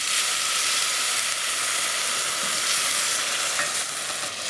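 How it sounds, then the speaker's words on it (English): Risotto rice being stirred in a pan after dry white wine goes in, a dense continuous sizzle and hiss with soft spoon scraping, close and steady. "And just keep stirring and cook until absorbed."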